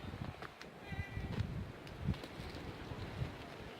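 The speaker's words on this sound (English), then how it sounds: "ooh, it is windy" Gusty wind buffets the microphone with low rumbling bursts and rustling, rising and falling irregularly, close and fairly loud, with no clear talking.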